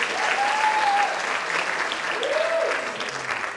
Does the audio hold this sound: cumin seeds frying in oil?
no